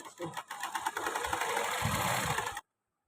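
Domestic sewing machine stitching the lower hem of a tiered skirt, a steady whirring run lasting a couple of seconds at close range before cutting off abruptly.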